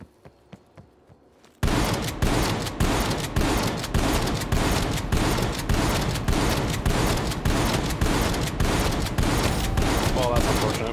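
Gunfire in Black Ops Cold War Zombies during a boss fight at Firebase: after a brief quiet lead-in, a loud, sustained stream of rapid automatic shots pounds on steadily for nearly ten seconds.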